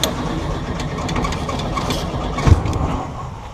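A 1971 VW air-cooled 1600cc dune buggy engine runs close by with a rough, uneven idle, a brief louder thump midway, then settles back into its rattling chug.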